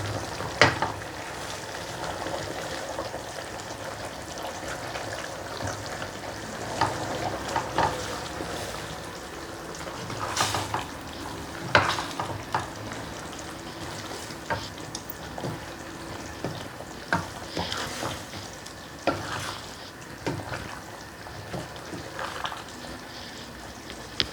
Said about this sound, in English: And now I'm going to turn this fish.